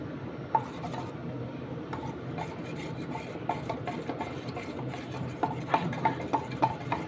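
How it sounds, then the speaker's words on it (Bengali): Chicken fry batter with vinegar being whisked in a bowl, a steady scraping and rubbing with light clinks that grow sharper and more rhythmic toward the end, close and alone without talk. "একটু ফেটিয়ে নিচ্ছি।"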